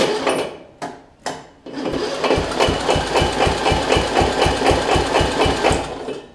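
A Murray widebody riding mower, fitted with a new carburetor and fuel lines, cranks in three short bursts, then catches and runs with a loud, steady, rapidly pulsing engine rhythm close by.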